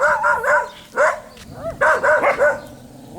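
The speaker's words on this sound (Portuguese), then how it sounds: "Ixi, é só latição, mais nada." Several dogs bark in a village full of dogs, a run of loud, close yips and barks in bursts with short pauses between them.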